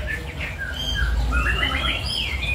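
A canary chirps and warbles in quick high trills and tweets, fairly close and continuous, over a low background rumble with no talk.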